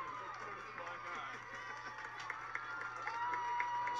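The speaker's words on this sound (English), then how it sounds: "Reaction from the crowd for the foul ball catch" A crowd at a college softball game murmurs and cheers steadily after a foul ball catch, with scattered claps and a commentator talking over the continuous noise.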